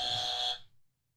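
A podcast quiz game buzzer gives one loud, harsh electronic buzz lasting about half a second, then cuts off into near silence.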